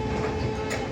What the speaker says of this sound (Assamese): অসমৰ এই railway station Guwahati railway station Kamakhya junction